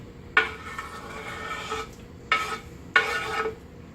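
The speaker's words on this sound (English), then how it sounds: "Shrimp goes in with the butter." Raw shrimp dropped into a hot pan of melted butter, set off in three separate bursts of bright sizzling spatter, each one flaring and then fading, close and fairly loud over a low kitchen background, no talking.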